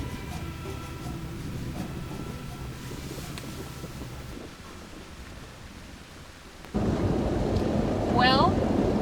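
Thunderstorm with pouring rain at the Mayan ruins of Chichén Itzá in Yucatán, a steady dense roar of rainfall that drops back briefly, then surges louder with a rumbling burst near the end.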